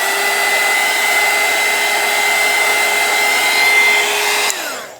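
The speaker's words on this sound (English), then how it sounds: "Hit that with my heat gun." A heat gun blows steadily and loudly at close range, drying green paint on a painted rock, with a constant whirring roar that holds for several seconds before cutting off and spinning down.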